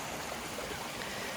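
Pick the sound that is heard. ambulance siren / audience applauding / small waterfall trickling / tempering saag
small waterfall trickling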